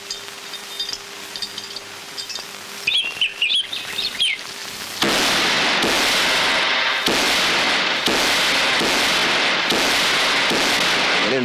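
Firecrackers burst in a film scene, first as scattered sharp pops among bird chirps, then as a loud, continuous crackling barrage with repeated bangs that runs to the end.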